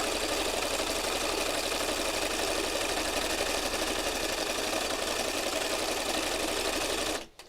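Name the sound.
sewing machine stitching a fabric heart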